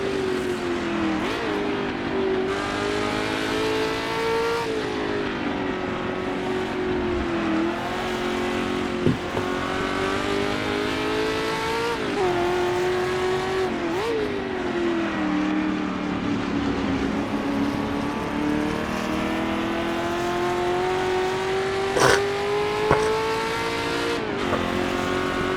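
Red McLaren sports racing cars competing in the 1966 Goodwood Tourist Trophy, round of the British Sportscar Championship: a steady, loud engine drone with rising and falling pitch through gear changes and passes, occasional sharp mechanical blips, and no voices.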